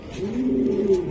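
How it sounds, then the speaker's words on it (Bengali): A young black racing pigeon coos in one steady, close, low throaty call lasting about a second, clear and alone. "এই যে ইয়াং কবুতর ভাই"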